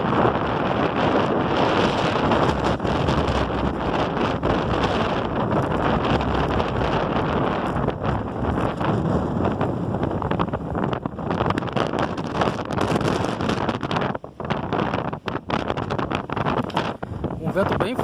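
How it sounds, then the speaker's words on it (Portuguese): Strong gusts at Praia do Rosa beach in Imbituba buffet the microphone in a continuous roar with surging peaks, while someone talks over the blustery noise. "Um vento bem forte mesmo."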